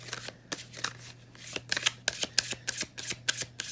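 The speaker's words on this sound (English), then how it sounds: "just hand shuffling these business cards" Business cards being hand shuffled during a tarot-style reading, with repeated soft riffling slaps and papery flicks in an uneven rhythm, close up and without talk, over a faint steady hum.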